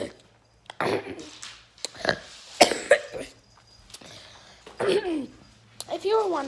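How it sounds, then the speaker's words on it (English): A child coughing several times in short bursts with pauses between, close and fairly loud, a child recovering from an illness. "I only have a cough now"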